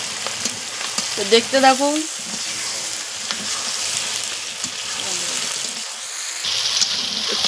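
Chicken frying and being stirred in a pan, a dense close sizzle with scraping of mixing, as a person talks briefly over it.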